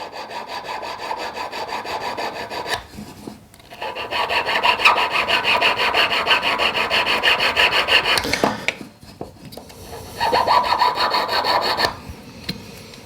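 Steady rasping strokes of a safety-back jeweller's file trimming and squaring the claws of a square silver claw setting, in three long bursts separated by short pauses, close and fairly loud with no talking.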